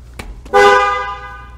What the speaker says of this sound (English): check to see if the horn honks